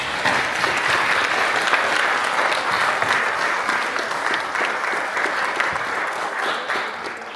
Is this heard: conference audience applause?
yes